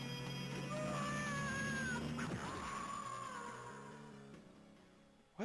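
A mechanical cat in a video game lets out a long, drawn-out synthetic meow with wavering pitch, loud and sustained for several seconds before trailing off.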